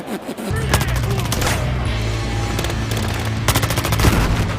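Rapid automatic gunfire from the video game Battlefield Hardline, loud and sustained in dense bursts for several seconds, with a few heavier shots near the end.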